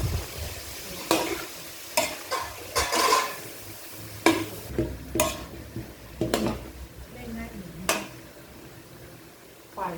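Hard vegetables and small-cut carrots are stir-fried in a giant wok, with a steady sizzle broken by repeated scraping and clanking spatula strokes against the pan while someone talks throughout.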